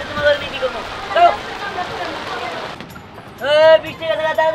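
Rain falls steadily outdoors with a constant patter on surfaces, while excited voices call out loudly over it toward the end.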